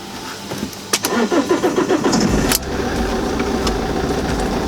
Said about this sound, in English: Now you need to try and start it.